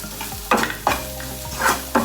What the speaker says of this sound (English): and stir it